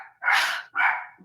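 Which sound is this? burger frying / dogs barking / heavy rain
dogs barking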